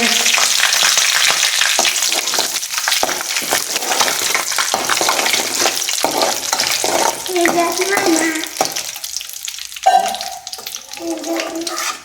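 Oil sizzling and spitting loudly in a frying pan on a home stove at night, a dense, steady hiss with brief stirring clatter and a few quieter moments near the end.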